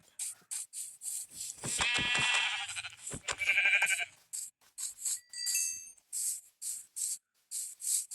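A Minecraft goat bleats loudly in a few drawn-out calls between quick, regular digital clicks and chimes from the game.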